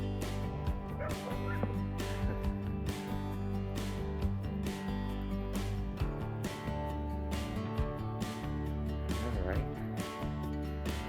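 A puppy barks and whimpers in short yips during a walking-and-treat training session, the dog sounds repeating over a dense, continuous bed of background music and some talk.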